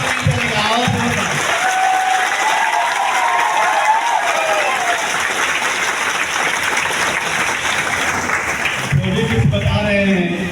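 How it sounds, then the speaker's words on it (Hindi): Loud, sustained clapping and cheering from a large crowd at a DXN mega event in Latehar, Jharkhand, continuing at full strength throughout with shouts mixed in. "एक जोरदार ताली होना चाहिए हमारे गुरु और गुरु माता पिता के लिए।"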